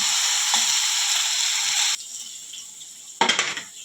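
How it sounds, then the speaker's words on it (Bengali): Onion with ground spice paste of garlic, chili, ginger and cumin fried and stirred in a pan while cooking crab curry, a steady loud sizzle that cuts down sharply, then a brief louder burst of spluttering near the end. "পেঁয়াজটা নাড়িয়ে নেব।"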